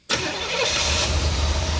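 A 1985 Chevy Corvette recovered from a Florida swamp catches and runs, its engine bursting into a loud, rough idle that holds steady with a low throbbing rumble under light throttle.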